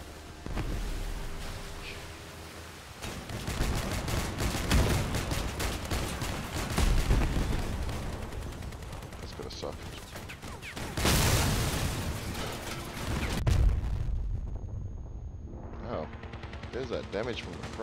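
Dense bursts of automatic gunfire and heavy cannon booms from armored vehicle combat in the game Crossout, loud and sustained for most of the stretch before a brief lull, with a voice talking over the shooting.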